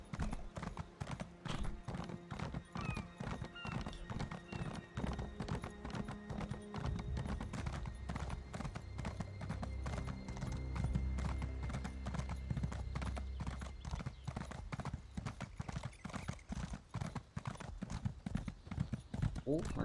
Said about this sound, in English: Let's hop on our trusty steed and away we go.